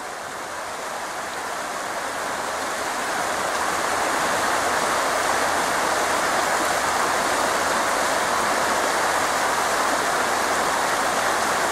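A river flowing somewhere along a route toward a volcano in Russia, heard as a steady, broad rushing wash that swells slightly in the first few seconds and then holds constant, close and loud, with no voices.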